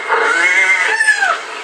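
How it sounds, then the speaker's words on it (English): A recording of cats meowing, played loudly indoors as a wake-up call: a close, continuous caterwauling yowl with rising and falling pitch, ending in a final long meow. "I thought there was some cats in the house"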